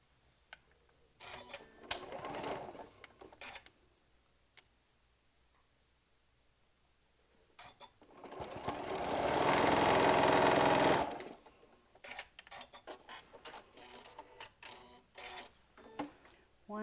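A sewing machine stitches quilt panel pieces together in one loud sustained run of about three seconds, with a shorter burst earlier and light clicks and handling sounds around it.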